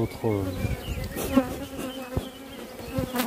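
A steady, droning buzz of many honeybees swarms close around an open beehive, with wing tones wavering and individual bees passing near; no speech is heard.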